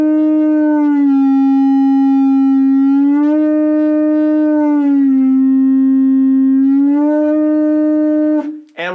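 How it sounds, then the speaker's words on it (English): A horn blown with a hand pushed into the bell, holding a loud, steady tone that drops to a lower pitch and rises back in repeated long held notes, alone with no talk. "If you shove your hand down in there, you can lower the pitch, usually at least a half step."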